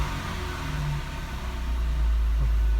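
A Porsche 997 Carrera 4S engine idles with a steady low rumble that swells slightly louder toward the end, close by and alone.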